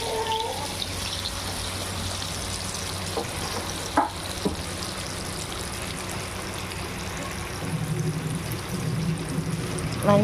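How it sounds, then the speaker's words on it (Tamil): Spiced, marinated seer fish fries in a pan with a continuous close sizzle, punctuated by a couple of brief knocks and a louder bubbling swell near the end. "வஞ்சிர மீன் ஸ்பெஷல் வறுவல் ஓடிட்டு இருக்குது"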